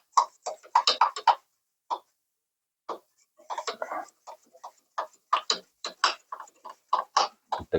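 A toothbrush scrubs the fins of an air conditioner with quick, dry bristle strokes in irregular bursts, quiet and close, with a short pause before the scrubbing resumes.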